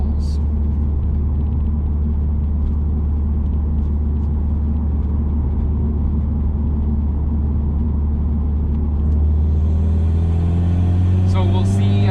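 Steady low road rumble fills the cabin of a 2017 Subaru WRX Limited SportTech driving at 30 mph, loud and constant, with a rising tone and faint clicks near the end.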